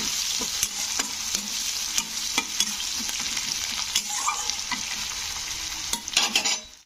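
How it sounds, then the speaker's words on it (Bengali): Onion fries in a pan for semiya upma, a continuous close sizzle broken by repeated scraping strokes of a spoon against the pan, with no voices. "তো পেঁয়াজটাও কিন্তু একটু হালকা ব্রাউন করে ভেজে নিতে হবে।"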